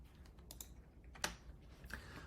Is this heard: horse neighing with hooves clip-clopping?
no